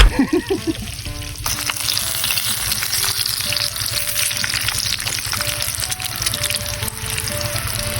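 Chicharon bulaklak, pork intestine, deep-fries in hot oil until crispy, a loud, close, continuous bubbling sizzle with popping crackles after an initial splashy drop into the oil.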